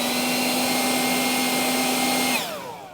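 A DeWALT 20-volt cordless leaf blower runs close by at full speed with a loud, steady whine, then is switched off and spins down, its pitch sliding lower as it fades.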